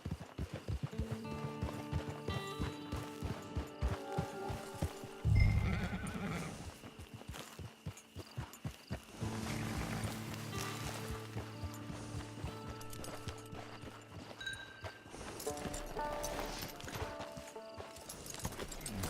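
Horse hooves clip-clopping with a neigh in the Western video game Red Dead Redemption 2, rhythmic hoofbeats under game music and ambience, with a louder burst of whinnying and movement midway.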